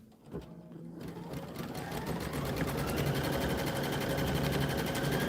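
A Brother embroidery machine stitches built-in quilting designs, its rapid, steady mechanical whir starting after a brief pause and then running continuously, close and fairly loud, with no talking.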